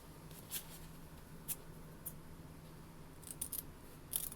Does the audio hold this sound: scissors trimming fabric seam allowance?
yes